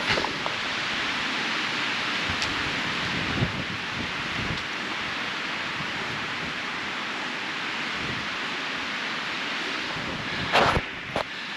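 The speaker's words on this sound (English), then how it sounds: "it's super windy, like really windy" Strong wind gusts roar steadily across a mountain trail on a remote British Columbia hike, a loud, broad rushing that buffets the microphone and swells briefly near the end, with no talking.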